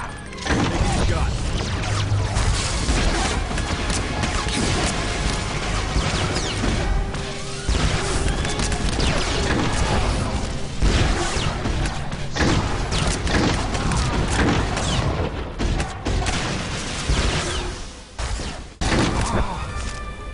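Loud, dense blaster gunfire and crashing impacts in a Star Wars: The Old Republic battle, continuous for the whole stretch, with voices mixed into the chaos.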